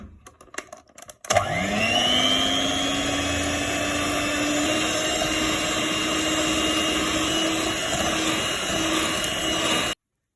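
An electric mixer switches on with a click and whirs at a steady high pitch, beating pumpkin cheesecake batter with milk, loud and close for about nine seconds before cutting off abruptly.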